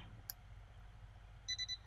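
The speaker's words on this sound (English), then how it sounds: "the DigiBee will beep when it's ready to be flashed again" A Paul C. Buff DigiBee studio flash unit gives a short, high electronic beep as it signals it is ready to fire again; the tones are brief and soft over a low background hum.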